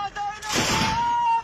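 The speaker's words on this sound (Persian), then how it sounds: "رگبار گلوله ها در برابر شبیخون داعش" A burst of gunfire during a surprise ISIS night attack in the desert near Samarra, Iraq: a short crackling volley that swells and holds for about a second, loud and harsh, after a faint tone.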